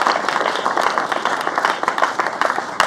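An audience claps for a group of students in Nepal, a brief, moderately loud spatter of many hands with sharp individual claps standing out.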